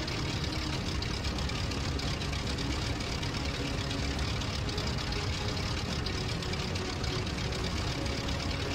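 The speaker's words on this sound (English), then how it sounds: "Try and get the engine warmed up." Idling aircraft engine warming up in the Rise of Flight World War I flight game, a dense, steady, knocking drone that stays loud and unchanging throughout, with no speech.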